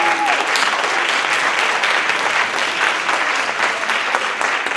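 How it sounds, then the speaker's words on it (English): A sustained round of audience applause at a high school music honor society senior recital, steady and fairly loud dense clapping filling the whole stretch with no talking. "let's please give them a round of applause"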